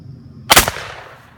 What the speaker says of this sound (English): black powder shotgun, 80 grains of powder, 1 1/8 shot, fire 1.